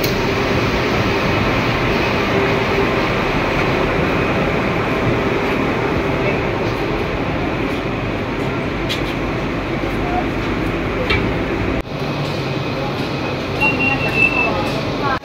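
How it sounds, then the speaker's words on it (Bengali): A steady loud rumble of a monorail train running in Kuala Lumpur, with a continuous mechanical hum and brief clicks, heard from inside the carriage. "মনোরেল চলে এসেছে, আমি এখন এই ট্রেনে করে"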